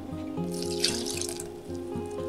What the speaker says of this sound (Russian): Теперь наливаем туда лимонный сок.